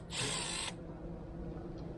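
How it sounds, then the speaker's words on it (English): A power drill spins screws off RV slide-out tracks in one short, high whirring burst of about half a second, followed by quiet room tone. "So now how to spin the screws off these tracks."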